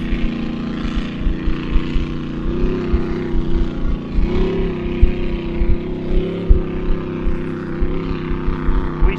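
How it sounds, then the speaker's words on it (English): Grand Prix hydroplane racing boats with supercharged alcohol engines roar past on the water at a powerboat club meet, a loud sustained engine drone with pulsing low-end throb that rises and falls as the boats run. "The inaugural running for Grand Prix hydroplanes."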